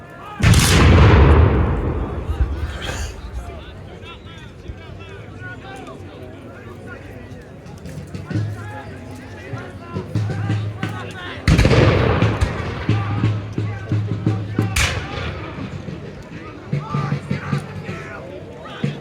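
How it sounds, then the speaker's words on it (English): Sharp volleys of musket fire crack out at intervals at a reenactment of the Battle of Guilford Courthouse, loud booming bursts with a crowd murmuring and scattered shots between them. "Continued gunfire on the right."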